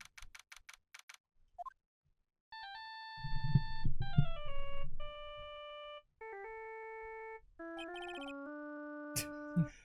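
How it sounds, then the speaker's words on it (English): Phone ringtone from the video game Ace Attorney: Justice for All, a melodic string of clear electronic beeping notes stepping up and down in pitch, with a short rumbling burst partway through and a brief noise at the end. "I bet it was this ringtone that caused it."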